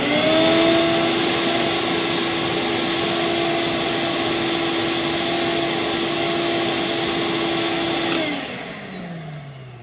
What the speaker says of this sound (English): and then I vacuum it up